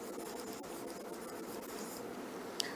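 A pen writing out an English sentence, soft continuous scratching strokes on paper, quiet and close, with one sharp tick near the end.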